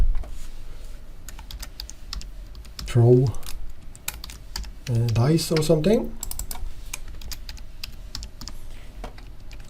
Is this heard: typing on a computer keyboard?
yes